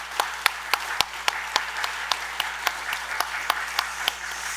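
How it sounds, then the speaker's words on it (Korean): A church congregation claps in a steady, rhythmic beat to encourage the church school teachers, evenly spaced sharp claps over a low hum. "우리 한번 박수로 한번 격려하겠습니다."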